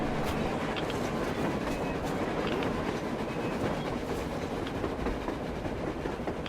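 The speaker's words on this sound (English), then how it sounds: "A train! A damn train on the surface!" A video-game train rumbles past nearby on the surface with a steady, dense roar and rhythmic clacking of wheels over the rails, loud and continuous throughout.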